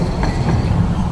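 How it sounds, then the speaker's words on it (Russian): A tram passes along a city street, a continuous loud rumble with rolling rail noise throughout the short stretch. "Трамвайки бегают."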